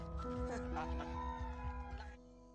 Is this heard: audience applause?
no